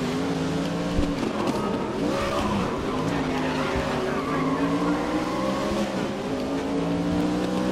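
A race car drives through a GRID road circuit, its engine droning steadily with rising and falling pitch as it shifts, tires squealing and skidding at moments, loud and continuous throughout.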